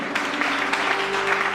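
A church congregation applauding and cheering in acclamation of Jesus during a prayer service, a dense continuous wash of clapping and crowd noise throughout the short moment.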